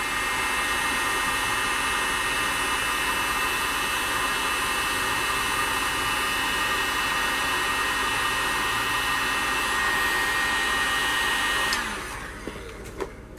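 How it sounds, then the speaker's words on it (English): A heat gun blows a loud, steady roar up close while warming a Castle Creation battery connector, holding constant for about twelve seconds before cutting off into near silence with a few small clicks. "I'm gonna heat it up with a heat gun, not to melt it, just so it's gonna be soft enough"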